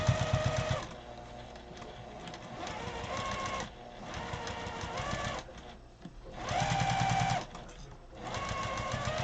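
Sewing machine running a small stitch close to the edge of a fabric briefcase seam, in several steady bursts of close, loud whirring separated by short pauses.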